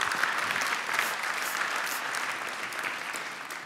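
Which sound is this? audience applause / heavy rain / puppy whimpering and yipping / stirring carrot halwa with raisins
audience applause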